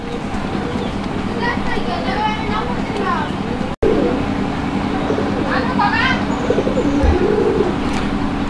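Raj-golla and Madrazi-golla pigeons coo in low, rolling phrases nearby under continuous talking by a man, with a steady background hum.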